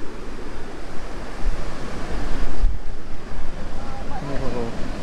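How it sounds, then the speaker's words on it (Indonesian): Ocean surf rolls and breaks at Pangasan beach in Pacitan, East Java, a loud rushing wash heavily mixed with wind buffeting the microphone, continuous for the whole stretch. "Ombak lagi bagus."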